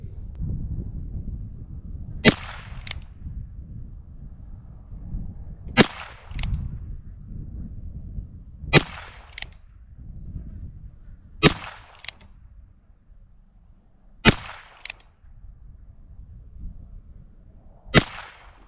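A Ruger Wrangler Birdshead .22 revolver loaded with Norma ammunition fires about six sharp, close cracks at an unhurried pace, roughly three seconds apart, over a low outdoor rumble at a shooting range.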